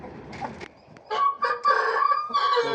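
A young rooster hatched in April, offered for sale alongside pigeons, crows once in a clear drawn-out call with brief clucks before it, close and loud.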